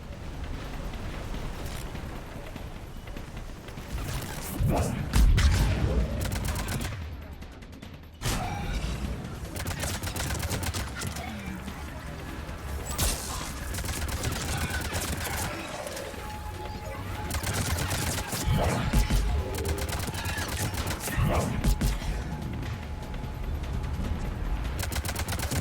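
Continuous gunfire from a Mass Effect 3 firefight sounds loud and dense throughout, bursts layered over music and game effects with no clear gaps.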